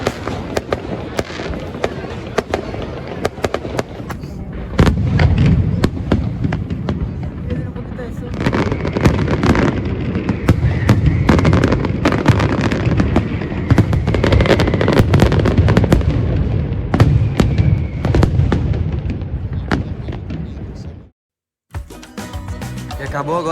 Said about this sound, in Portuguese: pra assistir a queima de fogos daqui a pouco